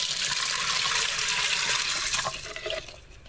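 Water poured from a measuring cup into an electric Farberware pressure cooker holding washed green baby lima beans, a steady close splashing stream that tapers off near the end.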